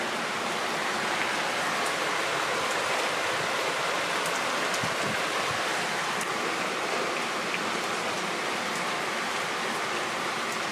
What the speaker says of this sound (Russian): Конкретный такой ливень.